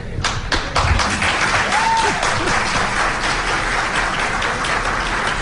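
A crowd applauds loudly, steady clapping filling the room for several seconds, with a few sharp claps standing out early on.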